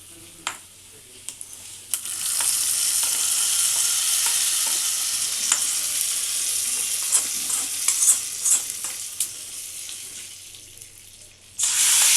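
Hot oil with fried garlic is poured into spinach dal cooked in a pressure cooker, setting off a loud, steady sizzle that starts abruptly and runs for about ten seconds with scattered crackles and spoon clinks, no talking.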